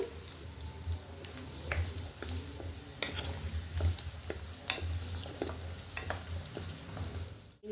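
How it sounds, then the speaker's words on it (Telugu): Amla, Indian gooseberries, stirred as they fry on a medium flame, giving a constant close sizzle with irregular scraping and clinking strokes of a spoon against the pan, without any voices. "ఇలా కొంచెం కలుపుకుంటూ వేయించుకోవాలి మీడియం ఫ్లేమ్లో పెట్టుకోండి"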